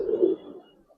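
A single low, soft coo from a Giribaz coloring pigeon, a male bird, sounds close by, swelling briefly then trailing off into quiet.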